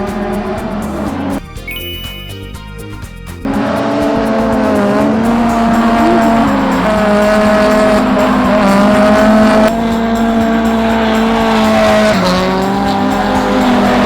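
A Nissan S13 drift car snarls loudly under hard throttle, its engine note rising and falling while tires squeal in long sustained screeches, with a brief quieter pause early on before the roar returns.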